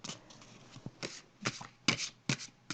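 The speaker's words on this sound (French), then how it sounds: "je vais piger une carte" Tarot cards shuffled by hand before one is drawn, a handful of short papery riffles and taps spaced irregularly, close and fairly quiet, no talk.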